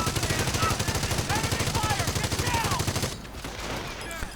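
.30 caliber machine gun fire in a World War II strategy game, rapid sustained bursts rattling loudly for about three seconds before tapering into quieter distant battle noise.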